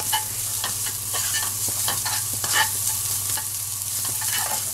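Diced onions sizzle hard in a hot wok, a close, steady crackling hiss with quick stirring scrapes and pops, no voices over it.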